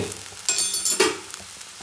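Milk hits a hot pan while rice kheer is being made, giving a couple of sharp hissing sizzles that flare and fade within a second or two.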